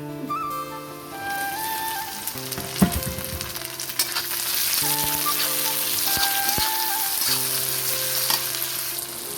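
Chopped tomatoes go into browned frying onions for mutton kosha, a loud crackling sizzle with a splashy burst as they hit the pan, then steady frying and stirring.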